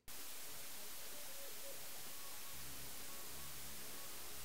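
Loud TPDF dither noise, a dense steady hiss that covers the whole band and swamps the music beneath it, leaving only faint low tones and brief melodic traces audible through the static.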